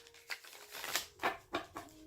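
Tarot cards being shuffled by hand, a few quick papery riffles and snaps in a short burst, close and fairly faint, with no talking.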